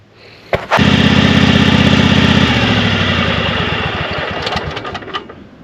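An old Craftsman or Troybilt lawn tractor engine starts with a couple of sharp knocks, then runs loud and close with a steady mechanical drone. The pitch shifts partway through as it settles into a rougher, pulsing run.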